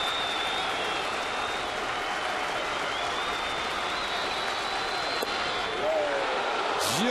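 A stadium crowd at a Twins–Yankees baseball game cheers for left-handed pitcher Phil Coke: dense, steady applause and roaring fills all seven seconds at constant loudness, with a brief whistle near the end and faint voices mixed in.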